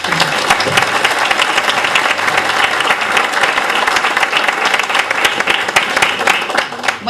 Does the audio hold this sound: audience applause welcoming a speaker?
yes